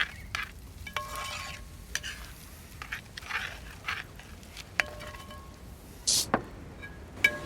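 A spoon scrapes and knocks around a pan of food cooking on a stove, in scattered short strokes with a faint sizzle beneath, fairly close and otherwise quiet.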